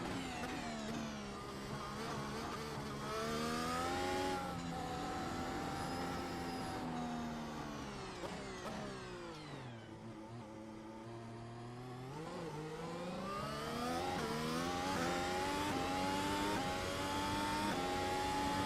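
Race car engine in Project Gotham Racing on the Long Beach circuit, revving hard and continuously through rising and falling gear changes, easing off briefly mid-lap before pulling back up to high revs, heard alone without talk.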